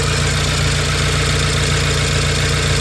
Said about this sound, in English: Engine actually sounds really healthy now.